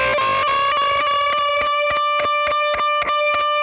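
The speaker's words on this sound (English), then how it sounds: "our final section is kind of a slow motion bend that goes like this." A distorted electric guitar holds a note and bends it slowly, then rhythmic muted strums pulse evenly over the sustained tone, loud and close with no talking.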